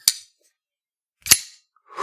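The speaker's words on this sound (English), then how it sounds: "It has this really nice, thick thwack sound the entire way." Koenig Arius kitchen knife chopping down onto a board, two sharp, thick thunks about a second apart, close and clear, with a third chop starting at the end.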